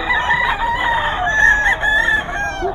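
A Hatch Gray gamefowl rooster crows in one long, loud, close call that holds steady before trailing off, with no talk over it.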